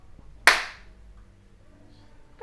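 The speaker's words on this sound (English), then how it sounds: "I'm just going to give us a clap first." One sharp hand clap rings out nearby, crisp and loud, fading quickly into a quiet room hum.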